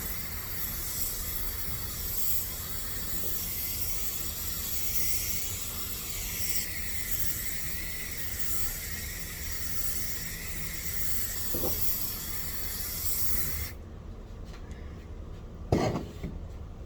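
A spray can lays a first coat of red paint onto a 1994 Ford Mustang V6 SN95 fender, a long steady hissing spray that stops near the end, followed by a couple of faint knocks.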